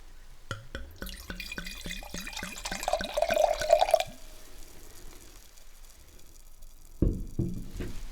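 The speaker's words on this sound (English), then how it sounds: "Let's pour some wine." Tannat red wine is poured into a glass, a quick run of rhythmic glugging splashes from the bottle settling into a steadier pour, then fading, with a few faint clinks near the end.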